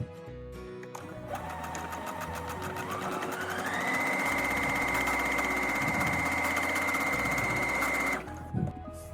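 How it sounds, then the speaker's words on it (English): Sewing machine stitching fabric face-mask pieces together, a steady close mechanical whir that speeds up and holds a constant rate for several seconds before stopping abruptly. "when you're sewing along this end for, or this edge for fabric that has a pattern, you always want to sew it right sides together."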